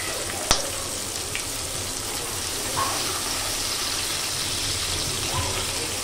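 Onion and garlic fry in a pan for an okra dish, a steady broadband sizzle holding at an even level throughout, with a brief sharp clack near the start and faint bubbling underneath.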